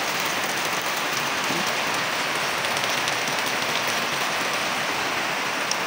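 Heavy rain pouring without a break, a dense, even hiss of drops drumming on surfaces, loud and constant throughout with no voices.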